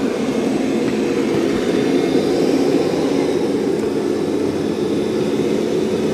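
A Roborock Qrevo MaxV robot vacuum runs on carpet with its suction raised and mop pads lifted, giving a loud, steady, unbroken whirring roar.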